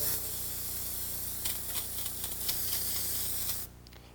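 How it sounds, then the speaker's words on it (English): An airbrush sprays yellow paint in a steady, close, even hiss with faint pulsing, then cuts off abruptly near the end. "I'm going to go ahead and spray a little bit of yellow"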